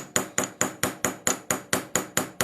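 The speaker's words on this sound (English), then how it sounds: "hammer this little texture in here" Ball peen end of a chasing hammer texturing a silver ring, struck about eleven times in a steady, even rhythm; sharp, close metallic taps with short ringing decay, no talk.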